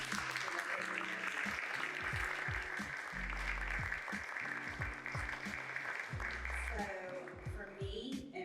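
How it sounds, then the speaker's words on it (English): Applause from a crowd at an awards and recognition event rises steadily as a voice speaks over it. "I just want to give them a round of applause for what they do."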